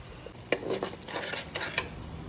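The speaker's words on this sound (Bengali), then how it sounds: "রসুন জিরা পেঁয়াজ দেবেন, একটু কষিয়ে নিই" Garlic and cumin being stirred and fried in a pan for a duck curry, with a few quick scraping clicks of a spoon against the pan over a soft, quiet sizzle.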